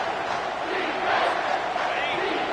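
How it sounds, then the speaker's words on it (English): A stadium crowd in the NCAA 25 college football video game roars in a dense, continuous wash of cheering, loud and sustained, with a commentator's voice running over it. "with this place rocking, the crowd forces a false start"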